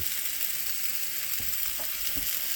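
Ground burger meat and onion bits sizzle in a pan, a steady hissing fry with a few soft spatula clicks, moderately quiet and close, no voices.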